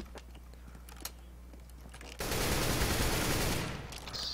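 Gunfire bursts out in the video game CS:GO: after a quiet stretch of faint clicks, a loud, dense burst of rapid shots runs for over a second, then tapers off.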